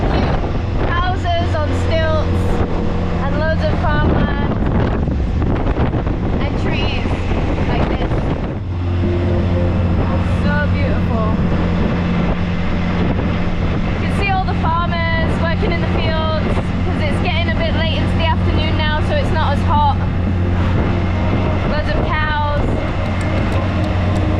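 A tuk-tuk motoring through Cambodian countryside past farmland, its engine a steady low drone mixed with heavy wind buffeting the microphone throughout, while voices talk over the ride.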